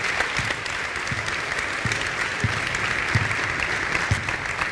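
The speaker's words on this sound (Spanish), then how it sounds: "Un aplauso a los chicos que lo han hecho fantástico" Sustained applause from a basketball event audience, steady clapping throughout with scattered louder claps standing out, no talk over it.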